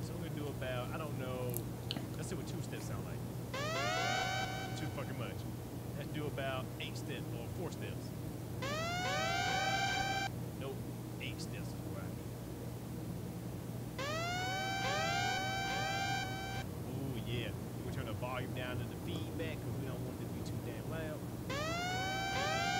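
An 808 Mafia style trap siren built in FL Studio plays through speakers as rising swept wails that repeat every few seconds over a low bass hum, with someone talking quietly beneath.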